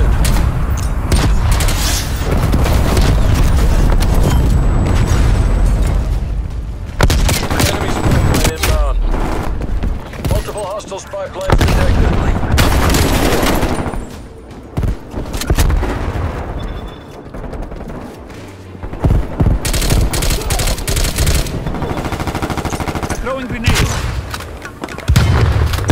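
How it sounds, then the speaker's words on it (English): Cruise missile strike in Call of Duty: Black Ops Cold War, a sustained barrage of loud booming blasts and rattling gunfire rolling on for many seconds, with brief lulls between heavy impacts. "Enemy cruise missile launch detected."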